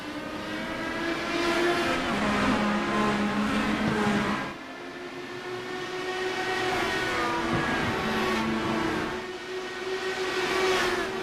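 IndyCar race cars scream around Kentucky Speedway in a racing simulator after a restart, as a pack of engines drones at a high steady pitch, swelling and dipping as the cars pass in waves, loud and continuous with no talk.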